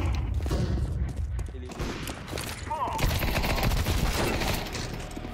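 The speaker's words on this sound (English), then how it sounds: "I'm throwing the flashbang" Flashbang grenade thrown in Counter-Strike 2, heard as a dense, loud burst of thuds and gunfire-like cracks amid constant combat noise, with a voice talking over the din throughout.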